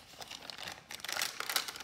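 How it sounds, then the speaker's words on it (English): Crinkly paper crackles and rustles as it is handled, a close, dense burst of crumpling that swells louder toward the end, with no voices. "Bit of nice crinkly paper."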